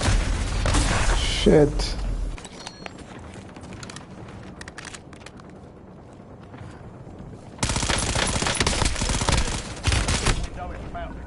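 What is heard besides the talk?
gunfire from the video game Call of Duty: Warzone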